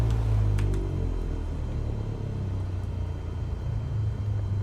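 A light aircraft engine idles before takeoff, a steady low rumbling drone held close and even throughout with no talk.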